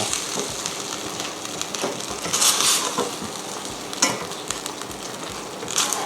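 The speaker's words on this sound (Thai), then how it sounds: "ตอนนี้แล้วก็ผัดไปเรื่อยๆนะ ถ้าใช้ไฟแรงก็คนเร็วๆหน่อย" Catfish curry paste stir-fries steadily in a hot wok, sizzling with scraping stirs and a few sharper crackles and bursts of spitting oil, the pan slightly scorching.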